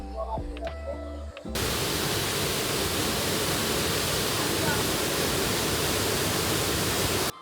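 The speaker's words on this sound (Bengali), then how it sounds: "ওয়াটারফলের জলটা কিন্তু যথেষ্ট ফোর্স আছে" A forceful waterfall at Daringbadi, Odisha roars as a dense, constant wash of falling water, close and loud, after a brief moment of voices and footsteps at the start.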